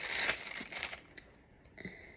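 A plastic bag crinkles up close while a Dooney and Bourke Savannah Edge Florentine bucket bag is unboxed, loud rustling that fades to softer crackles.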